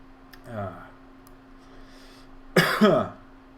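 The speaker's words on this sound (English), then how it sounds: "I'm getting a bit of a cough." Two coughs, a softer one early and then a sharp, loud double burst near the end, close to the microphone with no talking.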